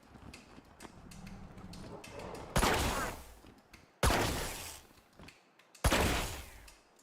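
Gunfire in the video game Wasteland 3, with three sharp, loud shots spaced a second or two apart over faint background clatter and ambience.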